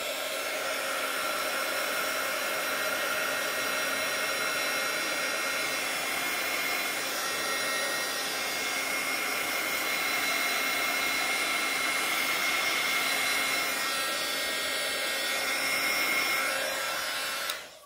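Heat tool blowing on watercolor crayon artwork on paper, a loud, steady, continuous whir held for about eighteen seconds before cutting off at the end, with no talk.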